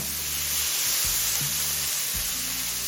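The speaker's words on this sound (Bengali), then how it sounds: "নুন আর হলুদটা দিয়ে আরও দু মিনিট ভেজে নিলাম" Pumpkin greens and prawns fry with salt and turmeric in a pan, a steady close sizzle running throughout with a few soft stirring knocks and scrapes.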